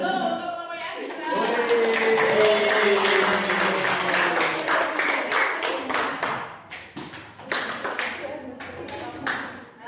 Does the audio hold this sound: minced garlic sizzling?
no